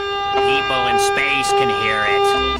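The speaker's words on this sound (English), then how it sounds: "That's the siren for aliens." An alien siren from a 1999 cartoon, a warbling, rising and falling electronic wail with strong tones. A voice talks over it briefly.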